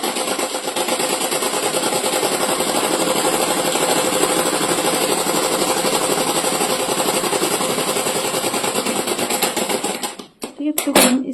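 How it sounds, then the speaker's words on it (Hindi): A sewing machine stitching the thigh seam of a pajama, a rapid continuous whirring rattle that runs steadily for about ten seconds, then stops with a few short clunks. "तो हम थाई की तरफ पहले ऐसे करके इसे सिलाई लगाएंगे।"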